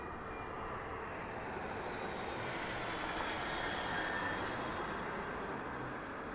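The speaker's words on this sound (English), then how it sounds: "Here we do have a smaller aircraft over here sneaking in on us." A small aircraft arrives at Las Vegas Harry Reid International Airport, a steady, even engine drone at moderate distance that swells slightly midway, with no voices.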